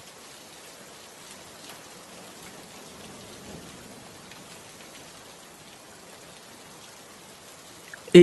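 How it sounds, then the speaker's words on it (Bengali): Steady, even hiss of rain falling, continuous and fairly soft throughout, with a brief louder knock right at the end. "সারা দিন একরকম বৃষ্টি হয়ে আসছে"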